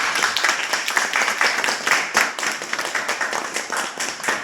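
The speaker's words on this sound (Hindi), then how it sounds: "तालियों के साथ जरूर" Hands clapping among an audience gathered at a Republic Day function of an LIC branch office, a brisk, moderately loud patter of individual claps with no voices over it.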